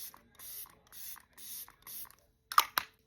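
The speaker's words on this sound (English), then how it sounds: "I'm gonna go in and set my face now." Five short, hissing bursts of makeup setting spray on a face in a steady rhythm, followed by two sharp clicks.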